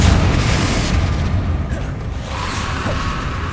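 Confringo fire spell blast in Hogwarts Legacy on PS5, a loud booming burst with a whooshing rush, close and sustained for a few seconds, with no speech.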